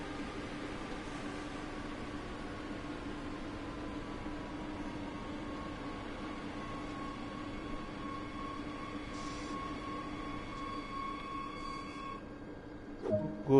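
A rapid transit train in a simulator braking to a stop at Leipzig Connewitz, steady rumbling rail noise with a long tonal whine that slowly drifts down and fades near the end, then a short clunk.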